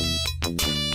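Phone ringing in the Police Quest IV video game, a short electronic ringtone of several quick tonal bursts, loud and alone.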